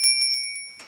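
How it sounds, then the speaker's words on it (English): Small bells tinkle with a few quick, light strikes, high and ringing, fading out at the end. "Bells."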